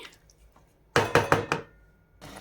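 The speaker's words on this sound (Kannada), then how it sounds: "ಚಿಕನ್ ಎಲ್ಲ ಹಾಕಿ ಮಿಕ್ಸ್ ಮಾಡಿದ್ದೀವಿ" A spoon stirs chicken through palak gravy in a pan, giving a quick run of four loud knocks and scrapes, then a pause before another scraping stroke.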